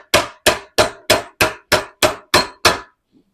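A hammer strikes parts being started into place on a project car, nine sharp evenly spaced metallic blows in quick succession, loud and close with no voices.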